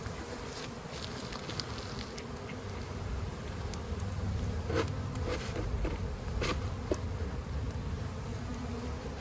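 A dense, steady drone of many honey bees buzzing close by in an open hive with six or seven frames of bees, continuous and even throughout, with no voices.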